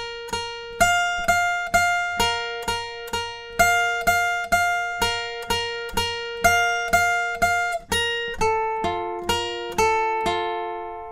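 Guitar solo from a song, studio version, played as a steady run of clean, sharply plucked single notes, evenly rhythmic and close, with higher notes ringing out toward the end.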